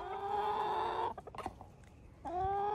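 Chickens in a warm hut on a cold day cluck and croon nearby in drawn-out, wavering calls with a short broken stretch of softer clucks in the middle, and no speech.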